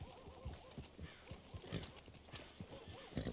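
A horse's hooves clip-clop in a steady trotting rhythm on open ground in Red Dead Redemption 2, the regular beats close and moderately loud, with a faint voice under them.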